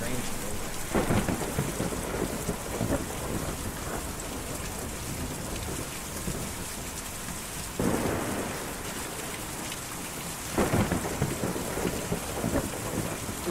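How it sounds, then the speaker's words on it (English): Thunderstorm in the video game Kentucky Route Zero: continuous heavy rain with several rolling thunder cracks, one near the start, another around the middle and more near the end, each swelling briefly over the steady downpour. "Difficult to see or even hear a storm like that."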